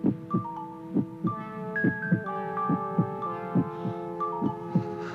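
A slow, steady heartbeat thumps in repeated low pulses under a sustained musical drone, each beat distinct and close.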